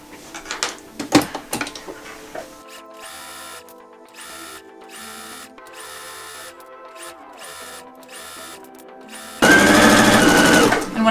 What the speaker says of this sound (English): So I'm going to stitch all the way around and down here and up again